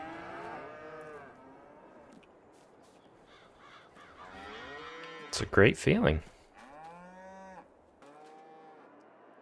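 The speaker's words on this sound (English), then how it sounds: "We officially have cows on the farm." Cows in the farm game Farming Simulator 22 give several drawn-out moos, with a sharp burst of louder moos and a crow-like caw near the middle. Someone talks over them.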